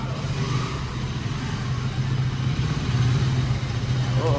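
A brand-new KTM 200 motorcycle pulls out of a showroom, its mid-pitched engine idling and then revving slightly louder near the end, with faint background voices.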